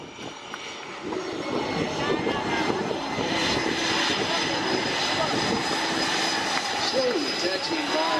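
Military aircraft slowly taxiing past the crowd at the Oceana naval air station airshow, a steady broad engine roar close by and sustained throughout, with crowd noise and announcer talk mixed in.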